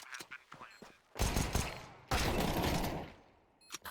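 Desert Eagle pistols fire in a Counter-Strike 2 esports match as bursts of loud, dense gunfire crack in two heavy volleys, mixed with quicker shots, with game sounds around them.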